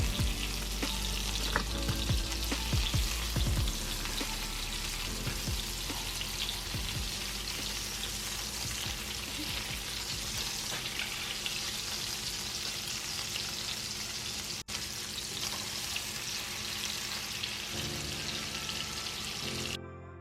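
Salisbury steak patties fry in oil in a skillet with a loud, steady sizzle that holds for about twenty seconds, broken by occasional crackles and pops, and no one speaks.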